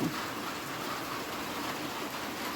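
Steady rain pours down over rice fields in a continuous, even hiss, close and fairly loud, with no voices over it.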